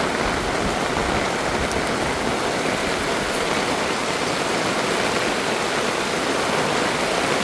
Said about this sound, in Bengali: অনবরত বৃষ্টি হইতেছে